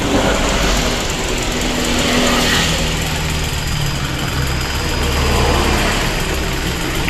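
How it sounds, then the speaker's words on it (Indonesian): A 2003 Kawasaki Ninja R motorcycle engine with a worn piston block runs steadily up close, its rough mechanical rattle and knock continuous and loud, with no voices. "ini suaranya kerotok. Ini ternyata nih penyakitnya di bagian blok seher"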